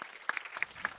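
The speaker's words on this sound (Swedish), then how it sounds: "Jag tycker vi ger dem en applåd." Audience at a panel seminar on family policy and women's careers for International Women's Day starts to applaud, a faint scattering of separate claps building unevenly over a brief moment.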